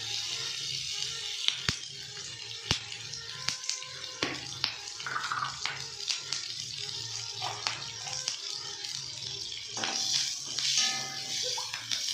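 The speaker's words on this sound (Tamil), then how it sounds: "வெங்காயம் நல்லா வதங்கட்டும்." Onions sauté in a pan at home, giving a soft, steady sizzle with occasional sharp clicks and taps from a utensil, fairly quiet and continuous throughout.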